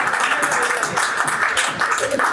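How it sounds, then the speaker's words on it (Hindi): An audience at a Hindi comedy poetry show breaks into applause, dense clapping that runs throughout, mixed with crowd noise and voices. "ताली बजाओ या जोरदार एक।"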